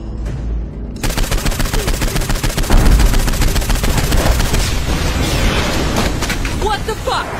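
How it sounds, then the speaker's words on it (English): A compound is bombed in the video game Saints Row IV, with rapid pounding explosions and booming blasts going off continuously after a brief opening, loud and dense, with a voice shouting over the barrage. "Our spy's bombing the compound!"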